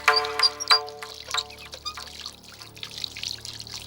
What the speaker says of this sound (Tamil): அந்த செடிங்களுக்கெல்லாம் தண்ணி விடுப்பா